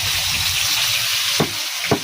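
Fish sizzling as it fries in a pan, a continuous hissing crackle with a couple of brief clinks near the end.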